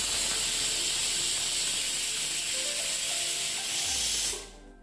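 A pressure cooker on a gas stove vents steam in a loud, steady, close hiss that holds for about four seconds, then cuts off abruptly into near silence.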